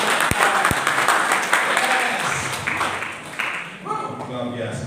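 Congregation clapping for God during a Christmas church service, a burst of dense applause with a couple of sharp thumps early, gradually thinning as voices come through toward the end.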